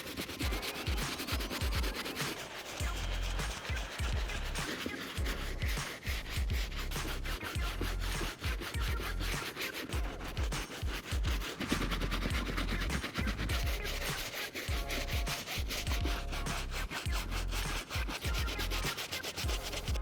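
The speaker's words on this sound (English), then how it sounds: "I did all the scrubbing I could possibly do using a soft bristle brush" Soft bristle brush scrubbing dirty white Jordan sneakers, a steady, close rubbing and scratching sound that runs continuously with short rhythmic strokes and no talking.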